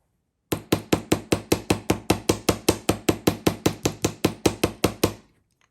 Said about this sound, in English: now we're going to hammer all